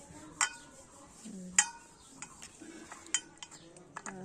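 Taro leaf curry stirred in a metal pot, sharp ringing clinks of a spoon against the rim at irregular intervals over soft scraping, with faint background sounds between strikes.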